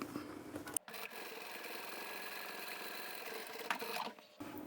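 A sewing machine stitches closed the opening of a lined tote bag, running in one long steady whir broken by two brief stops, close and even.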